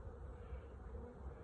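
Honey bees fly around a hive on a warm spring day, a steady, dense buzzing drone that holds at an even level throughout, close and continuous with no voices.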